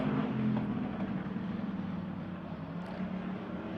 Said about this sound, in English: Drag race down the back straightaway.